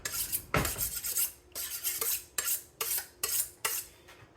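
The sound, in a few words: sharp knife cutting biltong meat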